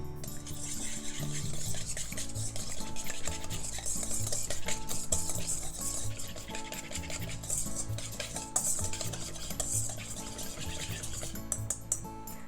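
Salt and pepper mixed in a large bowl for a cabbage and crab stick salad dressing, with continuous rhythmic clinking and scraping of a utensil against the bowl, close and steady throughout.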